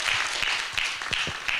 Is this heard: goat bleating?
no